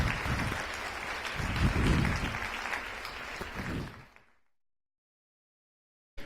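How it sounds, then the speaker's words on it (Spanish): An audience at a cardiovascular health symposium applauds a doctor, steady full clapping for about four seconds that fades out and gives way to silence. "Otro aplauso para el doctor, por favor"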